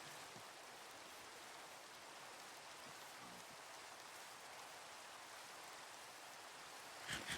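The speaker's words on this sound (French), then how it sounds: "J'aime pas la pluie sur Minecraft." Rain falls steadily in the video game Minecraft, a soft, even hiss of drops that stays faint and constant throughout, with a brief louder patter near the end and no talking.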